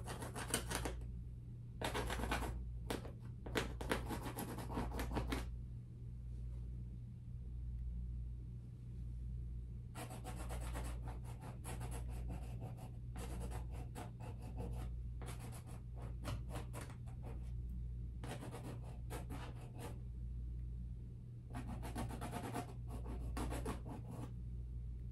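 A worn-down stick scratches and drags through wet paint during abstract painting, bursts of close scraping strokes that stop and start over a steady low hum.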